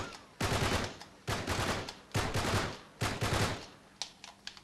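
Four loud, evenly spaced bursts from a burst-fire weapon in Uncharted 3, each a tight cluster of rapid shots with short gaps between, followed by a few fainter scattered pops near the end.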